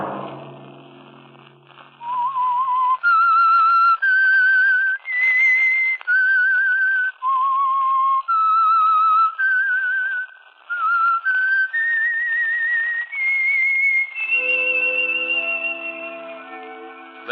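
A melodic whistle, clear and bright, carries a tune of held and sliding notes, with brief pauses between phrases and instrumental accompaniment joining near the end.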